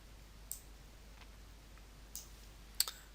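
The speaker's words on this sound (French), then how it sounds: "je clique sur valider." Computer mouse clicks, a few faint sharp ticks scattered over a quiet hiss, one slightly louder near the end.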